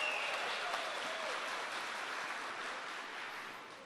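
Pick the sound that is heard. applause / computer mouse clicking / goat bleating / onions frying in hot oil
applause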